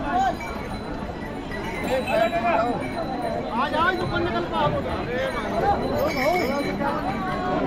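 Horses carry riders down the Kedarnath pilgrimage trail, giving an irregular clatter and clink of hooves on the stony path beneath constant nearby talking and chatter from people on the route.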